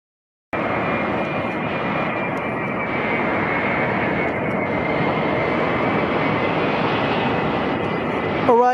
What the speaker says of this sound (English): Arriving from Seoul Incheon, first out of two A380s from Korea